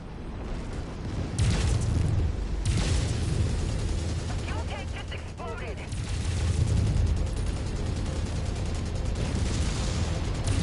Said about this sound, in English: Fuel tank just exploded.